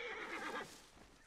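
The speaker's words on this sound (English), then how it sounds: "Is my parked horse still here?" A horse in the video game Assassin's Creed Origins lets out a single loud whinny that tails off, followed by a faint hoof clop.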